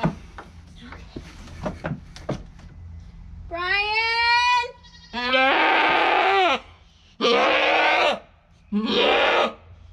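Nubian goat bleating loudly during milking, giving several long, strained calls in a row at close range, with a person talking faintly in the first seconds.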